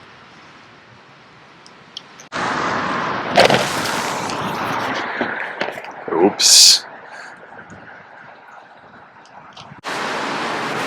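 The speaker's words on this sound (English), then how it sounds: "I hope the traffic noise doesn't ruin it." Street traffic on a city avenue in the rain, a broad steady wash of tire hiss and passing vehicles with a louder burst midway and a brief spoken word.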